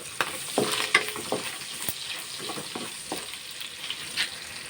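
Garlic sautéing in a pan for a simple Filipino lunch dish, with a steady sizzle and fry broken by repeated clinks and scrapes of stirring, close and alone without talk.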